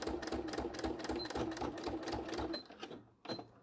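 A sewing machine runs a quick back stitch along the handle of a mini bag, a steady rapid stitching rattle for about two and a half seconds before it stops, then a brief last burst.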